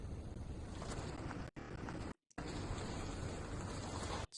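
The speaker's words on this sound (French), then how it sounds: "Donc ici, j'ai la pluie" Steady rain used as background ambience, a continuous broadband hiss and patter broken by two brief dropouts before it resumes at an even level.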